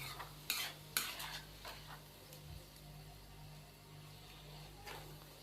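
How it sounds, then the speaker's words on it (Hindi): Yogurt being stirred into chana biryani masala in a pot makes quiet scraping and clinking strokes, a few sharper at first, over a low background sizzle. "दही को शामिल करने के बाद हम इसको अच्छे से मिक्स कर देंगे।"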